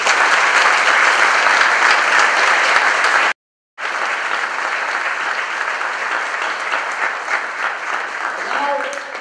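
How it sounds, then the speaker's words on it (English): Loud, dense applause from an audience at a city's State of the City address honoring the council and staff, with a brief silent break midway before the clapping resumes and continues steadily. "let's have a round of applause for my council, my staff, and everyone who has played a part in bringing us where we are today"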